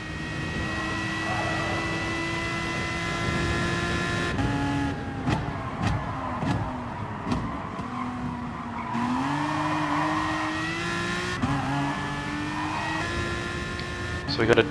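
Race car engines in Gran Turismo Sport, with a McLaren and a Beetle on track, a steady whine that rises and falls through gear changes, with tire squeals and sharp clicks, under intermittent talk.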